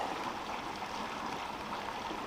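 Horse Canyon Creek in flash-flood flow after an hour of heavy runoff, a steady, loud rushing of water that fills the whole stretch without a break and with no voices.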